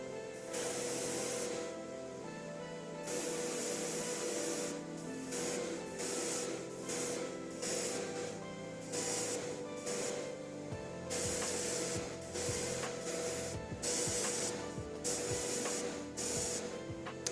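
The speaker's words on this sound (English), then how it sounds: "I really enjoy priming with an airbrush." An airbrush sprays primer onto a miniature figure, a faint, steady hiss in repeated short bursts separated by brief pauses, alone with no talk.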